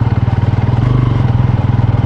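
A motorcycle engine labours while off-roading on a rough rural route, a loud close-up throbbing chug with a fast even pulse that holds steady without revving, rattling slightly.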